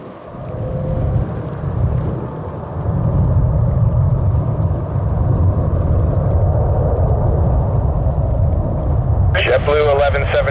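An Emirates jet takes off from runway 31 left at JFK airport, a deep, steady roar that swells early and holds loud, with a brief radio-style voice near the end.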